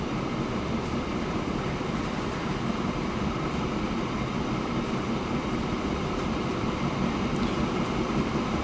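A train rolls along in the railway-building game Transport Fever, giving a steady, continuous rumble of wheels and carriages at an even loudness throughout, with no voices.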